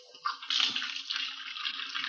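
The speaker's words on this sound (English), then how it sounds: "We found her in the kitchen washing dishes." Water running steadily into a kitchen sink while dishes are washed, a continuous close splashing hiss that starts abruptly and carries on alone.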